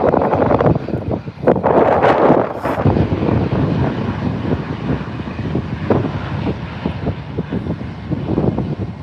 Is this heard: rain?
no